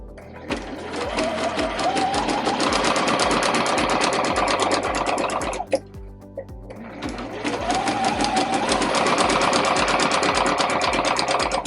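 A sewing machine stitches fabric for a bread bag, a loud, fast, even mechanical chatter close by that pauses briefly near the middle and then starts again at the same pace, with no talking.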